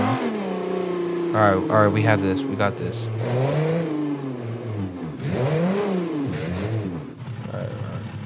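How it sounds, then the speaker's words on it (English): Toyota 4Runner engine in the BeamNG driving game revving hard, a loud rough droning tone rising and falling in pitch, with someone speaking over it. "I've never in my life ever heard a 4Runner sound like that."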